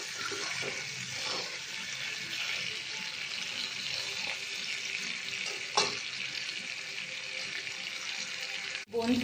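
Potato and egg frying together in a pan for a leftover mixed rice dish, a steady broad sizzle running throughout with a few soft stirring clatters and no talk.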